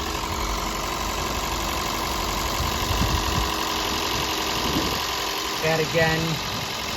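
A second-generation Toyota Prius engine with newly replaced fuel injectors idles in maintenance mode, a steady close hum with a faint knocking texture, while someone talks over it briefly.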